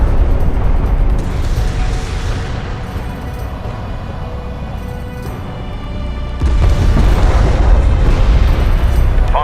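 An enemy turret is destroyed in the Homeworld: Deserts of Kharak strategy game, a loud sustained rumbling blast with a second heavier surge of explosion noise near the end, under battle sounds.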